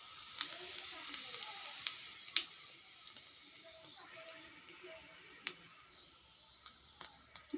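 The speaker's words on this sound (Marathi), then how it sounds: "मी थोडंसं तेल टाकून घेतले कढईमध्ये आणि थोडेसे जिरे टाकून घेते" Cumin seeds fry in a little oil in a kadhai with a soft, continuous sizzle, faint and close, dotted with sharp ticks and small pops scattered across the stretch.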